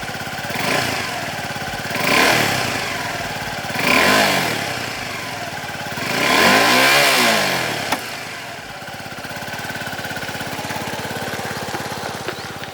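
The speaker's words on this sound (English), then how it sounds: "Exhaust note is towards the subtler side on low revs and tends to get throatier when revved hard" Suzuki Gixxer SF 250 quarter-liter motorcycle exhaust, revved in several rising and falling blips from a subtle idle to a throatier roar, then settling back to a steady loud idle with no talk.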